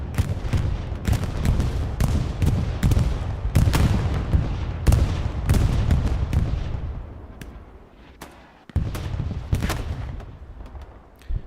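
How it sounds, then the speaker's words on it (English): A bombing run with heavy gunfire in Hell Let Loose on Omaha Beach: loud, near explosions and rapid volleys of shots pile up continuously, then thin briefly before a fresh burst of blasts. "Bombing run on its way."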